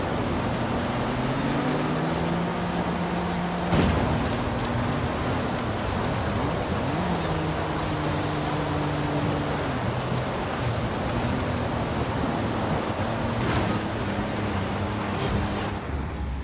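Steady rain hisses continuously in the Forza Horizon 5 racing video game, with a car engine droning and shifting pitch underneath and an occasional sharp crackle.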